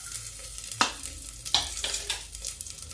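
Garlic and chili hitting hot oil in a pan, with a few sharp stirring scrapes and a soft sizzle running through a short, close stretch.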